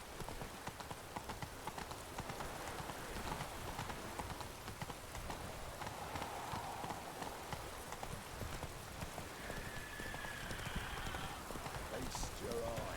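Horse hooves clip-clop in a steady galloping rhythm through rain in the video game The Witcher 3, with rain hissing on surfaces and game voices speaking over the hoofbeats.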